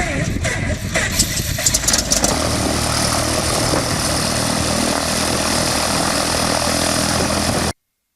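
The engine of a 1974 Cessna 177B Cardinal II runs after a cold start, a steady propeller drone with rough, clattering bursts in the first couple of seconds, close and fairly loud, then cutting off abruptly.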